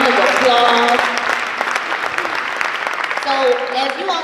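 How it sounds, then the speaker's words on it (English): An audience applauds panelists at a youth entrepreneurship event, with dense, sustained clapping that fades slightly mid-way, mixed with scattered voices and cheers around it. "Please, seriously, let's give our panelists a warm round of applause"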